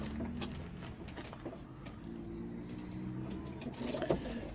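Soft, low cooing from pigeons kept in a house repeats quietly nearby, with faint rustles and background noise.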